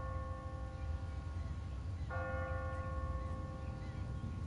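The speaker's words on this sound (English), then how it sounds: "What kind of church bell goes off at 20 past the hour?" Automatic church bell on a timer in The Walking Dead game, a single clear strike ringing out with a long sustained tone over a low rumbling background, fairly distant and not loud.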